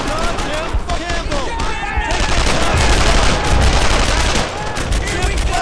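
Dense gunfire in the video game Brothers in Arms: Earned in Blood, with rapid bursts and overlapping shots forming continuous loud fusillades, while shouting voices break in over the shooting.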